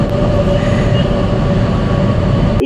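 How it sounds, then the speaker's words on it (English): A vehicle rolls through a road tunnel in Makkah, a dense, continuous roaring rumble with a steady hum, loud and close for its brief length, with no voices. "But I like tunnel noise"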